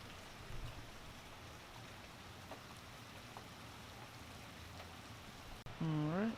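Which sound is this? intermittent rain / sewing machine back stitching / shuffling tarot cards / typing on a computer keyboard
intermittent rain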